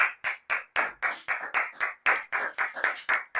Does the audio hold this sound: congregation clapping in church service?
yes